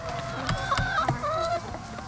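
Free-range hens in a henhouse clucking and cackling, several birds overlapping in a busy, continuous chatter, fairly close with soft background rustle.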